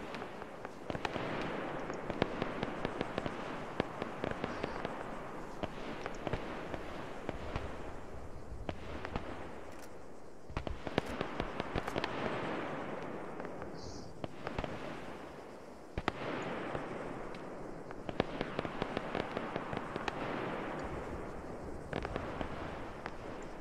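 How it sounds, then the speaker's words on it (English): Demolition charges detonating in Arma 3, a long run of crackling, popping blasts in rapid irregular clusters, fairly faint and distant, with brief lulls between volleys. "Get ready to detonate those charges."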